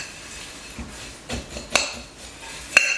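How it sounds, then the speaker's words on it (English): A spoon stirs granola ingredients and salt together in a bowl, giving a few scattered clinks and scrapes against the dish in a quiet room. "And then we're just going to stir all of this together."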